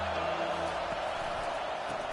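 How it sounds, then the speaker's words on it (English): Dense, steady roar from a stadium crowd at an Arkansas Razorbacks football game on third and long, loud and continuous throughout with a faint voice underneath. "Here comes the crowd trying to make it tough on 3rd and long."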